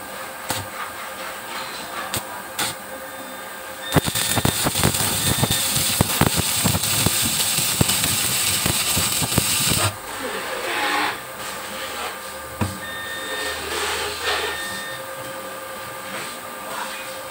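A Krisbow 160A DC inverter welder arcs at 120 amps on 3 mm steel channel, giving a loud continuous crackling hiss for about six seconds amid quieter workshop noise.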